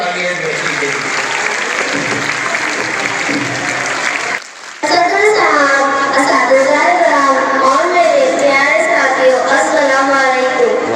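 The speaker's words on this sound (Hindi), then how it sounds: "जोरदार तालियां इस बच्ची के लिए।" School audience at a Republic Day speech event claps loudly for a primary schoolgirl, a brief gap, then a stronger burst of sustained applause mixed with crowd noise.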